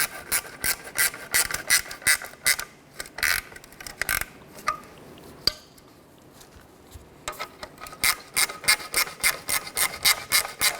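A ratchet tightens the catalytic converter bolts on a 2008-2012 Honda Accord, fairly quiet, in rapid clicking bursts that stop for a stretch in the middle and then resume.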